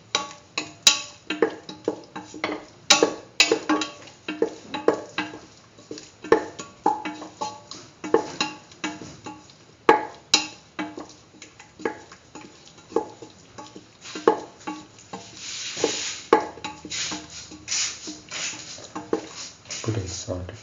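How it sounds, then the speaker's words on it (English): A spoon stirs chili powder into a split chickpea and yam mix in a pot, giving repeated scraping and clinking strokes in an uneven rhythm, close and fairly loud, with brief sizzling toward the end. "Thoroughly mix in the chili powder."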